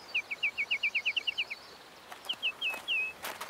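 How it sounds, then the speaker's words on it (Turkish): Cartoon birdsong: a quick run of about a dozen bright, even chirps, a short pause, then four more chirps ending in a longer trill, fairly soft against a quiet background. "Kuş seslerini dinle abi."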